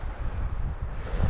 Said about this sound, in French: Il y a un petit vent quand même frais tout le temps, hein, parce qu'on est sur un plateau